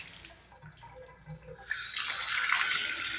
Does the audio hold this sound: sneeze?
no